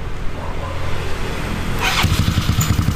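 A Yamaha Mio Soul scooter engine idles after oil pump maintenance, a close putter that turns into quicker, rhythmic pulsing partway through.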